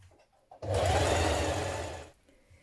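A sewing machine stitches a dress seam with a 1.5 cm allowance for a Vogue 9311 spring dress, running in one steady, close whirring burst of about a second and a half after a couple of faint clicks.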